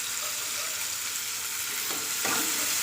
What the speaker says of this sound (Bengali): যাতে পেঁয়াজগুলো তাড়াতাড়ি ভাজা হয়ে যায়, নরম হয়ে যায়